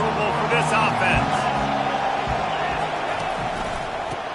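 Football stadium crowd roaring steadily as the offense lines up, a dense continuous wash of voices and cheers with a commentator talking over it throughout.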